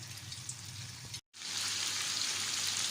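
Chicken pieces frying in hot oil in a karahi, a constant close sizzle and crackle, briefly cut off for a moment before returning slightly brighter.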